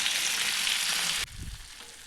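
A whole fresh catla fish, just caught from a village pond, sizzles in hot oil in a pan. There is a bright, loud hiss that cuts off abruptly partway, leaving a softer crackle with a low thud.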